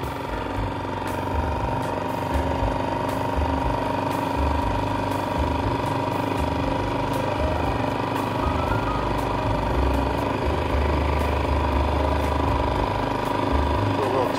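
A Yamaha 2.5 HP four-stroke outboard motor running in forward gear at idle, a steady, close mechanical drone with a constant tone holding unchanged throughout.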